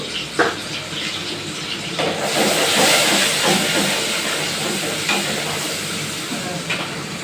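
A salted spice mix with garam masala is sautéed in a pan, giving a hissing, steamy sizzle that swells midway, with occasional stirring knocks and scrapes.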